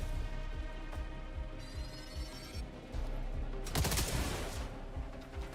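Shotgun fire in a video game, a Mach 1 shotgun, rings out in repeated sharp bursts over a steady bed of game noise, with a louder cluster of blasts near the end.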